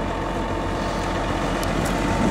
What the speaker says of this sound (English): We use for this tractor John Deere 9630.